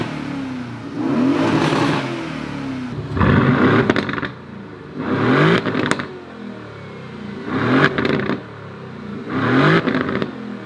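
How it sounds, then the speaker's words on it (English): An Aston Martin DB11 V8 revs repeatedly at standstill in Sport Plus, giving five loud, close blips spaced a couple of seconds apart over a steady idle. "I think revving that on standstill, it's actually a lot louder than a lot of the AMGs that I've revved in Sport Plus."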